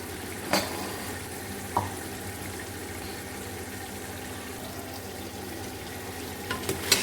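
Mutton for a tinda gosht curry fries in its released oil, a continuous soft sizzle with a few sharp spatters and occasional stirring clinks, no talk.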